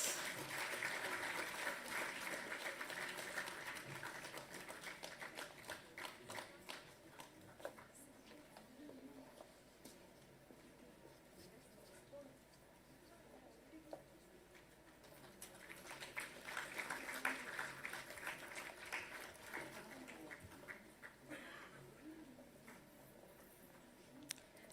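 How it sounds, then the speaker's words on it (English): Audience applause at a science awards function, a sustained patter of clapping from a large crowd that swells and fades across the stretch, with a voice occasionally heard beneath it. "Please give them a big applause."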